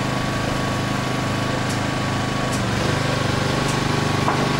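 A Honda generator engine runs steadily under full load, a loud, close, continuous drone with a constant rhythmic pulse and a few faint clicks.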